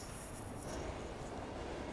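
A train rolls past nearby with a steady, continuous rumble and faint wheel squeal, filling the whole two seconds without voices.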